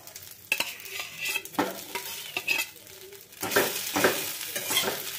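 Boiled potatoes are stirred in a pan over a low gas flame, with repeated scraping strokes of a spoon against the metal and a soft sizzle underneath, close and moderately loud.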